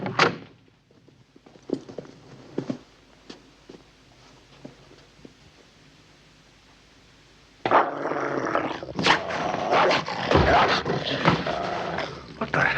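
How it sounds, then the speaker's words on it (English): A dog growls low and rough, with a thump like a door or impact, then the scene turns loud and busy with scuffling and raised voices. "How dare you kick my dog, you reprobate?"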